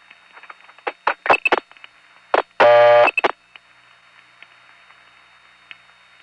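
Telephone line tones from a 1975 phone routing tape: scattered clicks and short tone bursts, then a loud steady buzzing tone of about half a second, followed by quieter blips over a faint hum.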